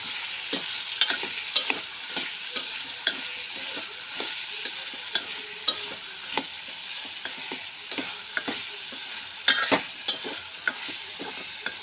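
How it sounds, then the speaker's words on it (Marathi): A spoon stirs jaggery into a raw mango mixture in a pan, giving repeated soft scraping strokes over a gentle, continuous sizzle, close by with no talk. "आता मी याच्यात 1 वाटी गूळ टाकणार आहे. ते एकत्र करून घ्यायचं आहे."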